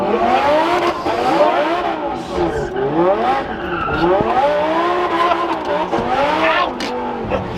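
A 1,000-horsepower rear-wheel-drive twin-turbo Lamborghini Gallardo spins its wheels on greasy Las Vegas streets, tires squealing in repeated rising and falling wails over loud engine revs, with voices nearby.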